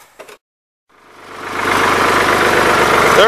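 A 1983 Ford 3910 tractor engine idles steadily after a short gap, its low mechanical rumble and knock rising in level and holding loud and close to the end.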